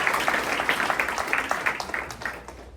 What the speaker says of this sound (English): Have a big round of applause for JD.